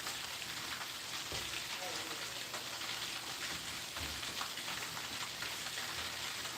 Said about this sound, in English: Hear that? That's that frying sound.